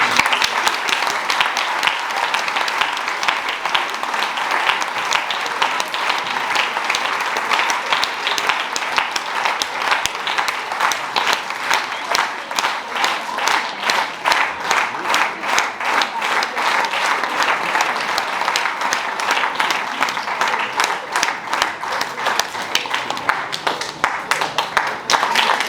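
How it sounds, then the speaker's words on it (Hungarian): Sustained audience applause at a folk dance ensemble's jubilee gala, dense and steady from start to finish, with many hands clapping together and rising into rhythmic, unison clapping toward the end. "Meg egy nagy tapsot."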